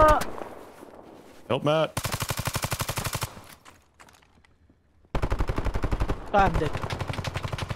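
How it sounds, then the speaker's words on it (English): Bursts of rapid automatic gunfire in an extraction shooter video game, loud repeated volleys with short gaps, mixed with a player voice calling out over the game audio. "That's them shooting."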